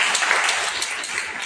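Audience at a Christian gathering breaks into applause, a dense burst of clapping from many hands with a few sharper peaks, no talk over it.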